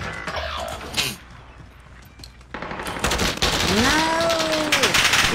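Gunfire in the video game Call of Duty: Warzone, loud dense bursts crackling through the second half, with a muffled rattle earlier and a voice talking over the shooting.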